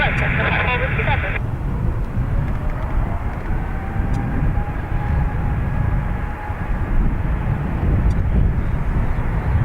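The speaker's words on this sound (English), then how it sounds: "KLM, obviously, off to Amsterdam" A KLM airliner departs Dublin Airport bound for Amsterdam, its loud continuous jet roar rising and spreading as it climbs, while people talk close by and a radio crackles briefly at the start.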